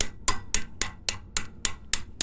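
Nine sharp metallic hammer blows strike a boat trailer wheel hub while the wheel bearing is being serviced, landing at a steady rhythm about a quarter second apart. They sound close and loud with short ringing tails.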